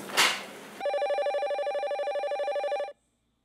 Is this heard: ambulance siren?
no